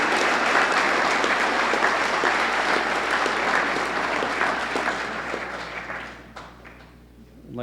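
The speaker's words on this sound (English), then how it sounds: "Another big round of applause." A crowd at a hall of fame induction ceremony gives a long round of applause for the 1976 state championship team, loud and dense at first, then thinning out and fading toward the end.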